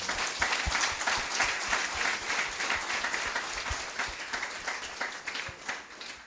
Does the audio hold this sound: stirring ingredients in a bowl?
no